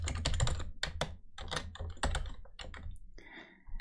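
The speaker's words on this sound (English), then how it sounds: "And then I'm going to enter the same password again." A password is typed on a computer keyboard, a quick run of close, crisp key clicks in irregular bursts with short pauses, alone without talk.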